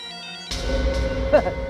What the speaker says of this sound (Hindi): ये सेलफोन किसका बजा?